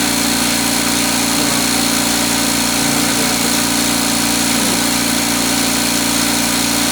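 An air compressor runs steadily with its air hose open, a constant loud mechanical hum and drone holding unchanged throughout with no talking.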